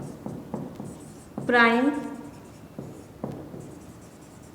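Marker or chalk taps and scratches on a board in a math lesson give short, faint strokes at intervals, heard beneath a teacher speaking.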